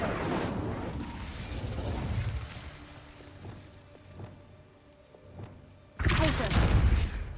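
An Incendio fire spell cast in Hogwarts Legacy, a loud whooshing burst of flame near the start and another forceful blast at the end, with softer thuds and combat noise between.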